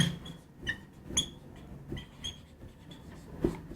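Marker or chalk squeaks and taps across a board in short irregular strokes, close and fairly quiet, with no talking over it.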